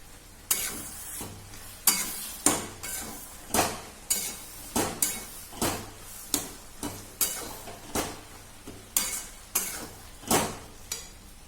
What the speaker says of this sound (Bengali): এইবার আমি পুরো জিনিসটাকে একসাথে মিক্স করে দেবো